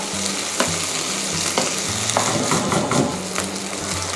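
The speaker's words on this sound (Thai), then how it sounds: "คนให้มันเข้ากันเลยนะคะ ให้ตัวพริกเนี่ย ตัวซอสเนี่ยมันเริ่มกระจาย ไม่เป็นก้อน" Oil sizzles and crackles steadily in a small frying pan as chili sauce for Korean tteokbokki is stirred, a utensil scraping in an irregular rhythm, close and fairly loud.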